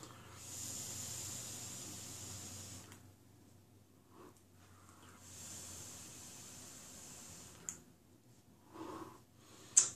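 Close, soft hissing draws through a Smok Caterpillar RDA atomizer vape, two long airy pulls separated by quiet gaps, followed by faint exhale puffs and breathing.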